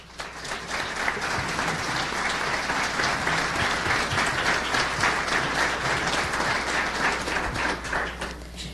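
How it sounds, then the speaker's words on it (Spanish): A full audience gives sustained, dense applause at a 2018 graduation ceremony for a diploma in radio, television and digital media, a loud, steady wash of many hands clapping at once with no voices over it. "Recibamos con un fuerte aplauso a la directora académica de RTM"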